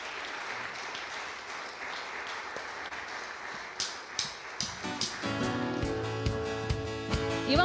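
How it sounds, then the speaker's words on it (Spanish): A church congregation applauds, a sustained wash of clapping that is joined midway by a few sharp louder claps and then by music. "Dale un aplauso a nuestro Señor."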